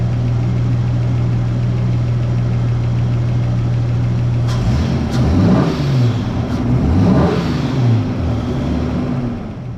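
A Ford XG ute engine, after priming, idles with a steady low hum, then gets a few sharp revs that rise and fall, loud and close with no voices.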